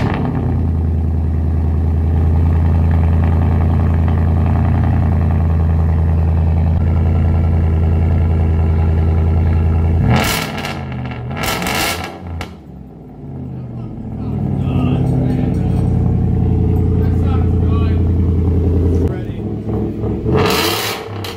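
Ford F-150 pickup with a Coyote 5.0 V8 and a loud aftermarket exhaust system, droning steadily then roaring through sharp revs around the middle and again near the end, close and loud.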